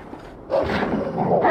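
In Assassin's Creed Valhalla, a summoned dog gives a brief burst of barking that starts after a quiet moment and holds fairly loud to the end, with little talk over it.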